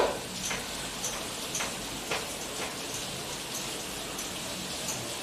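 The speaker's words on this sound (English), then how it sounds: "It's raining heavily, huh?" Heavy rain falls in a steady, dense hiss with scattered sharp drip ticks, heard from indoors. It continues evenly and alone, with no talking.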